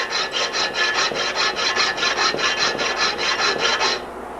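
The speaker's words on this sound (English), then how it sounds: "I'm probably filing about a 5 to a 7 degree angle" Metal file rasping across a bicycle frame tube miter, about fifteen even rhythmic strokes in a steady back-and-forth pattern, close and fairly loud, then stopping.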